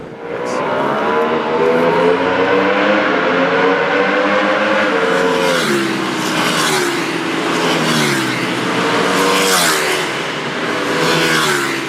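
A loud V-twin engine of a 2012 Ducati 1199 Panigale motorcycle revs and surges continuously, its pitch climbing and dropping as it races nearby on a circuit, heard trackside.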